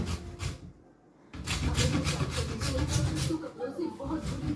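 Food being grated by hand in a home kitchen, with steady, rhythmic raspy strokes close by that pause briefly and resume, and voices talking faintly alongside.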